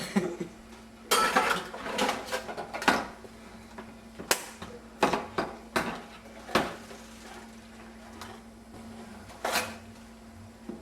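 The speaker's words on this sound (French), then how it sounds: "on ouvre la soupe aux tomates Heimer" A can of Heimer tomato soup being opened, with a run of sharp metallic clicks, scrapes and clanks of the can and utensils in a kitchen, irregular and fairly close, over a faint steady hum.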